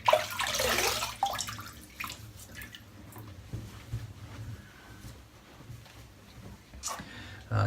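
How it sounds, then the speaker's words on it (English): Cold water from a tap runs and splashes as a face is wetted before shaving, a burst of broadband splashing at the start that settles into fainter trickling and dripping, with another brief splash near the end. "Wet the face, cold water today."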